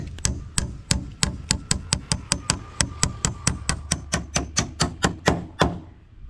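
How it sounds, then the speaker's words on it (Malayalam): A big nail being hammered into a wooden board for a traditional dog cage: about twenty loud, sharp, evenly spaced blows ring out close by in a steady rhythm, then stop. "ആ ഒരു പടിയെ നമ്മൾ ഈ കാണുന്ന പോലെ വലിയ ആണി വെച്ചിട്ടാണ് അടിച്ചുറപ്പിക്കാൻ വേണ്ടി പോകുന്നത്"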